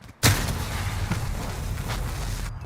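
A single sharp launch shot firing thermite in Modern Warfare at Tank Factory, followed by a sustained low rumbling burn that fills the rest of the moment at moderate volume.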